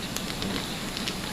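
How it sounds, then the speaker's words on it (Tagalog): An open fire burns steadily with dense crackling and hissing, a continuous rough wash of snapping sounds at moderate level and no clear voices. "Nagiliyab na."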